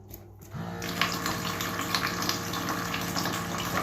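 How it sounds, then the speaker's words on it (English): A rechargeable smart sensor water pump runs water for handwashing, a steady splashing flow that starts after a brief quiet moment and continues evenly. "This pumping is working."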